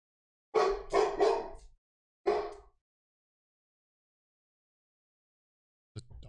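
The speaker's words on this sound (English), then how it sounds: "The dog like losing its mind outside." A dog outdoors barks and whines in two short bursts, several quick yelping barks followed by a single whine after a pause, with another brief sound at the very end.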